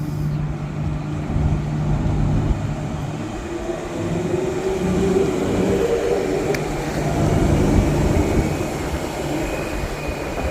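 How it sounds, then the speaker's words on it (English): A four-car passenger train from Midland rumbles past at East Perth Station with a steady low roar and rolling wheel noise, building and easing over several seconds, no voices. "It's a 4-car train coming from Midland. We'll just watch it go now."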